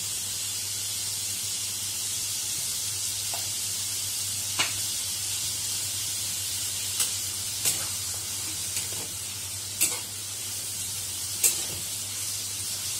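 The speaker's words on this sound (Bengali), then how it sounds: "যাতে পেঁয়াজটা তাড়াতাড়ি ভাজা হয় এবং ব্রাউন হয়" Chopped onions frying in oil with salt for Kashmiri chicken kanti give a steady, close broadband sizzle, with a few sharp pops and clicks scattered through it and no talking.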